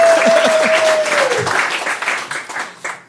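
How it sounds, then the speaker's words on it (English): Live storytelling show audience in a Los Angeles theater bursts into applause, a dense wash of clapping that starts strong and gradually thins out, with a brief whistle-like tone early on. "Yeah, you can clap for"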